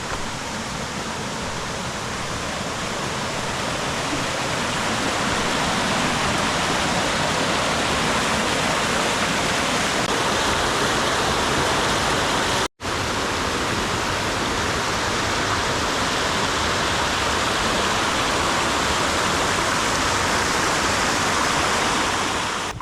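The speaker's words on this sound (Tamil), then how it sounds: "நீங்க நடந்து போகும்போதே இந்த ஃபால்ஸ்ல ஓடுற தண்ணீரோட சத்தம் உங்களுக்கு கேட்கும்" A waterfall at Vathalmalai roars with a dense, unbroken rush of flowing water, loud and close, holding steady throughout with one momentary cut.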